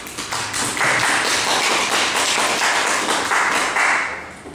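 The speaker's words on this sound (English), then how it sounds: "give her a big applause" Audience applause greeting a woman stepping up to give an evening talk: dense, steady clapping from a roomful of people, loud and sustained for several seconds before tapering slightly at the end.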